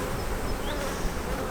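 A dense, steady hum of honey bees buzzing at a hive during hive work, loud and continuous with no voices.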